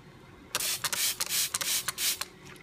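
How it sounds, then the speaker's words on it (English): A handheld spray bottle of Eat Cleaner fires a rapid series of short hissing squirts onto a tomato, about a dozen bursts in an uneven rhythm, close by. "I'm just gonna spray it on all sides"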